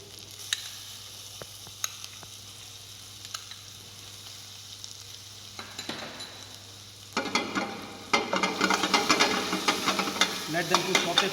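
Chopped onions and tomatoes stirred in a pan for mulligatawny soup, with soft scraping at first, then a louder, steady sizzle of frying in the second half, close and unaccompanied by talk.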